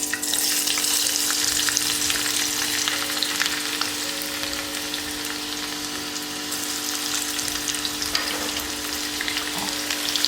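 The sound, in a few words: chopped garlic frying in cooking oil in a karahi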